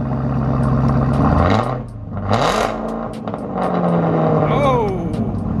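A Camaro ZL1 1LE with a muffler-delete exhaust revs loudly in a few sharp blips that rise and fall, a deep rumble snapping up to a roar. People talk briefly alongside.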